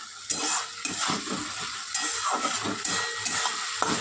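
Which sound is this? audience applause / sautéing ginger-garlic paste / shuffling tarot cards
sautéing ginger-garlic paste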